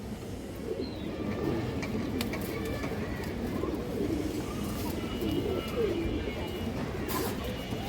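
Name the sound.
Giribaz pigeon cooing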